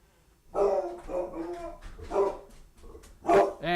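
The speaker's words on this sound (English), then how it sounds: "the UPS guy keeps knocking on my door and my dog goes crazy" A dog barking repeatedly and excitedly at someone knocking on the door, several loud close barks in irregular bursts with some whimpering yips, indoors.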